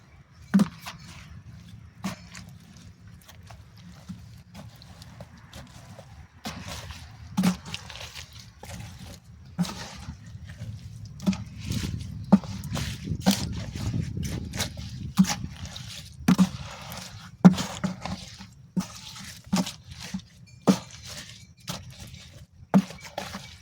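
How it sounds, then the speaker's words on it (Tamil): Fish amino acid mixture with banana and jaggery being stirred by hand, with scattered wet clicks, scrapes and sloshes at an irregular pace, close up and fairly quiet, with no talking. "நல்லா கலக்கி விடணுங்க"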